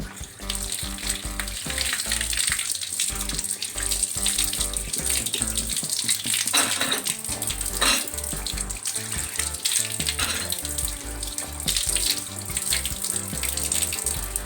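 Pooja items are rinsed under a running tap, a continuous, loud gush of water splashing over metal in a sink, with background music playing throughout.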